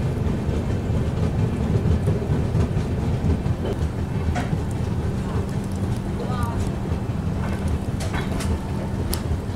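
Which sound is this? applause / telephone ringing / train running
train running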